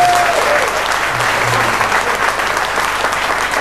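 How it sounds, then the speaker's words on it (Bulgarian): A congregation at a church service in Stara Zagora, Bulgaria, gives loud, sustained applause for the Lord, dense and continuous throughout, with a voice briefly audible underneath. "Нека да дадем едно мощно ръкопляскане на нашия Господ."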